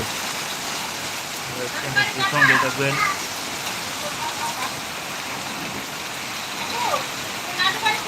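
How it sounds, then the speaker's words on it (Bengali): Steady rain hisses with a broad watery rush, gusts swelling it now and then, while a voice talks briefly over it. "প্রচণ্ড বৃষ্টির সাথে বাতাস"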